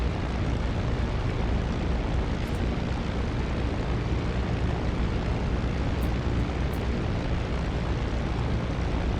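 Spitfire IX piston engine idling steadily after startup in the DCS World flight simulator: a dense, loud, even rumbling roar held throughout with no talk.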